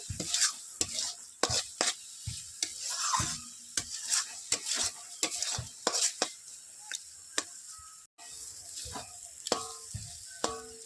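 Bombay duck (lote fish) jhurjhuri dry-frying in a pan as it is stirred, with a steady run of sharp spatula scrapes and taps against the metal over a soft sizzle, close and fairly loud.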